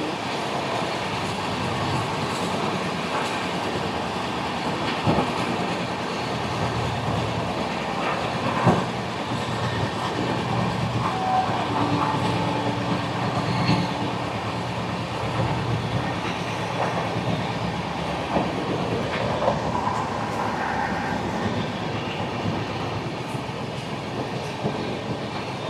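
Steady rolling roar of the Puri–Howrah Shatabdi Express on an electrified three-line track near Kharagpur, wheels and carriage noise sustained and unbroken, with occasional light clicks and no talking.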